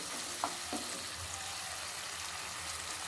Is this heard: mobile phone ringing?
no